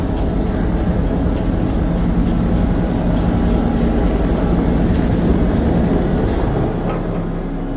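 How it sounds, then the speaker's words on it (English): In the video game Man of Medan, a helicopter landing makes a loud continuous low rotor and engine roar with a fluttering texture, easing slightly toward the end. "Helicopter still lands."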